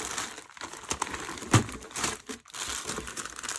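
A plastic parts bag from a Tamiya TT-02 Type SR chassis kit crinkles and rustles up close as it is opened and handled, with one sharp crackle partway through and quieter rustling around it.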